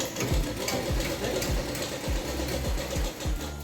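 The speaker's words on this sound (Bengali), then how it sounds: "একটু সেলাই বসেছি এই শাড়িটা সেলাই করছি" A sewing machine stitches a saree, its needle thumping in a steady, fast rhythm of regular mechanical beats over a whirring motor, close and continuous.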